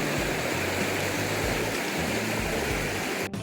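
Waterfall water pouring down near a hill at Sariya Falls, a steady, dense roar of rushing water that holds constant throughout and cuts off abruptly near the end.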